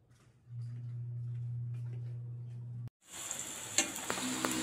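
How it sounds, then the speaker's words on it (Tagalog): Cubed tofu is dropped into hot oil and bursts into a loud, crackling sizzle right after a low kitchen hum, frying steadily and close by. "Una, prituhin natin ang mga hiniwang tokwa."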